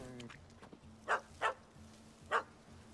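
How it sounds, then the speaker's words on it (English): A yappy little dog in the video game Witcher 3 gives three sharp, high yaps, two close together and one after a pause, over a low ambient hum and faint background murmur. "Don't know how to handle yappy little dogs?"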